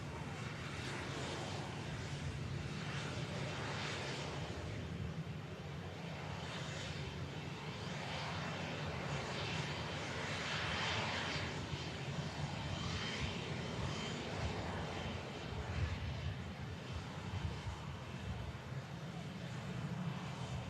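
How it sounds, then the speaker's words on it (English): A TUI airliner arriving from Mallorca touches down at Manchester Airport and rolls out. Steady, distant jet engine roar and rushing air continue throughout at moderate level. "Nice touchdown from the TUI."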